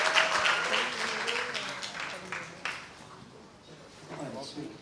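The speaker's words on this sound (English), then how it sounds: "Can we give them a round of applause, please?" Audience applause at a book launch for a Draupadi retelling, a short burst of clapping that fades over a few seconds, with voices heard over it.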